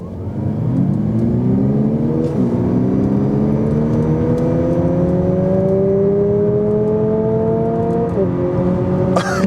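Synthesized engine tone piped through the cabin speakers of a 2020 Lexus UX Hybrid with a CVT, rising smoothly in pitch like an accelerating motor, with a brief simulated shift dip midway, steady and close throughout.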